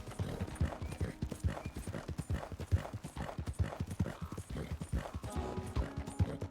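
Hooves beat in a quick, steady galloping rhythm in Red Dead Redemption II, close and continuous, with a faint voice in the background.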